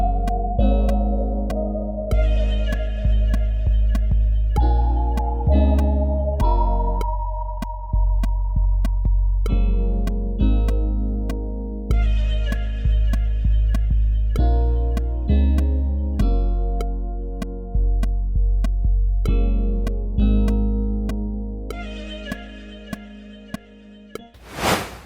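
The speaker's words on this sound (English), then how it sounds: "let's go ahead and let's add this 808." A deep 808 bass line produced in Pro Tools for a feel-good beat, a sustained low rumble under looping drums and chords with bright hi-hat ticks, repeating in bars and steady throughout without any voices.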